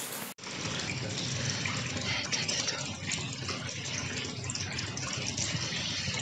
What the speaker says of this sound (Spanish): Vamos a coger agua con la ducha y ahí nos vamos a dar un duchazo